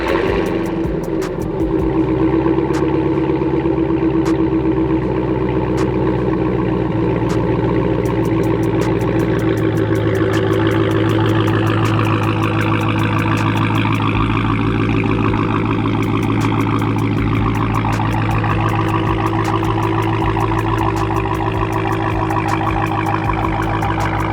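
A Dodge Hellcat Redeye idles after a remote start, its engine settling into a loud, steady, deep rumble with a sharp burst at startup and an even drone throughout.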